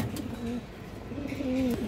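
A large khaki pigeon coos twice, each a low, smooth, drawn-out call close by over faint background noise.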